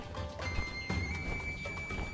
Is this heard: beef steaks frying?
no